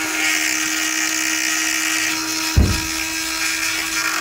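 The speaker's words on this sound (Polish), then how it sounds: "Trzymaj mocno i szlifuj" A power sander working a piece, a loud steady whine at one constant pitch with a brief rough burst of contact midway.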